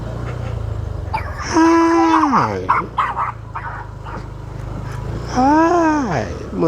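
A dog on a forest road gives two long, drawn-out howling barks, loud and close, under the steady hum of a passing motorbike engine.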